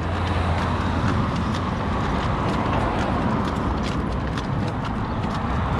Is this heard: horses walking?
yes